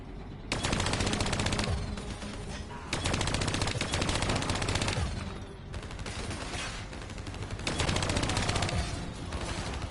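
Hijacked automated turrets fire in a Call of Duty: Black Ops 3 campaign battle, loud sustained machine-gun bursts repeating in long volleys with brief gaps between them and no talking.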